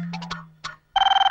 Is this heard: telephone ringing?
yes